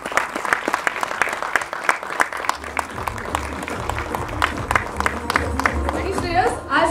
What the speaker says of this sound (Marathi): एकदा जोरदार टाळ्या आपल्या श्रेयस तळपदेंसाठी झालं पाहिजे